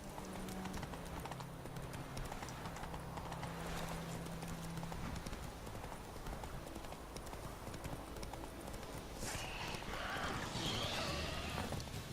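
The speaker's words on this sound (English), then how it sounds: "Whoa there, Roach." Roach, Geralt's horse in the video game The Witcher 3, moves along at a steady clip-clop of hooves throughout, with in-game ambience around it and a brief whinny-like burst near the end.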